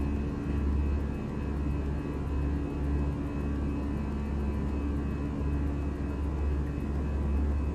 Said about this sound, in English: As you come back, you lose the noise, but what you do get is the drone of the engines.